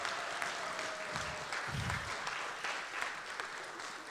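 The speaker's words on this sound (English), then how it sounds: "let's just have a round of applause for the for those who have served us" Dinner guests applaud the serving staff at an evening dinner event, steady sustained clapping from a crowded room with a couple of low thumps, moderately distant and continuous throughout.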